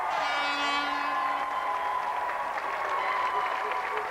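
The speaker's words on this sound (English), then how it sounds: "Round of applause for our volunteer." A TV studio audience claps steadily, a sustained round of applause with a faint tonal hum underneath.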